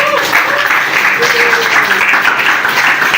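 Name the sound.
applause for the Christmas event committee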